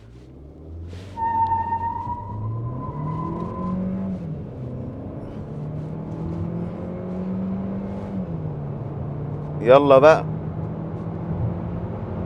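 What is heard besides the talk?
Geely Starray car accelerating hard with ESC switched off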